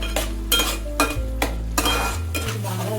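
Potatoes frying with salt in oil in a pan for aloo dum, with a spatula stirring and scraping against metal in several bursts over a faint, steady sizzle, heard up close.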